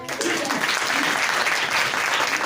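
Loud, continuous clapping from a congregation at a Sunday church service, applauding a brother, filling the hall evenly throughout.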